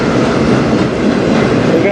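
An empty freight train of truck frame cars rolls past in Sarnia, Ontario, a steady loud rumble with faint clickety-clack from the wheels throughout.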